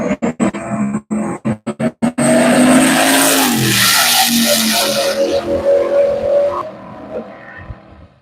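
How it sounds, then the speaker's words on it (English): A boosted Chevelle drag car makes a pass at U.S. 131 Motorsports Park, opening with a string of sharp staccato engine bursts, then a loud, sustained engine roar that fades away near the end. "that Chevelle did not have a good pass"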